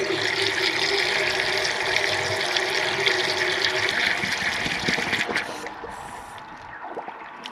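Water rushing freely through the open thermostat housing of an engine's cooling system with the pump running, a steady loud gushing and splashing that tapers into lighter trickling and dribbles near the end.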